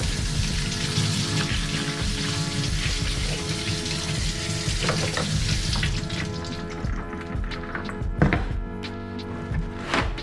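Tap water running steadily into a sink while peeled carrots are rinsed, a continuous loud splashing gush with small knocks and clatters as the carrots are handled.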